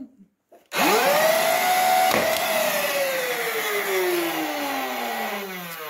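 Electric Bigpowers 505 foam dart blaster with modded flywheels spins up after a brief quiet start into a loud, sustained motor whine that slowly falls in pitch, with a sharp click near the middle as a dart fires.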